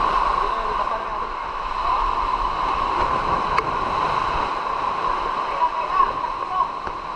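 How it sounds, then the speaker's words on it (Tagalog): Large typhoon-driven sea waves off Mindoro roar continuously in a broad, loud wash of surf with no distinct breaks, with only faint hints of voices behind. "Lalaki ng alon."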